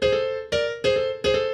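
Short blues phrase of four clear notes, each starting with a little slide up into the root or third, close and bright with no talking.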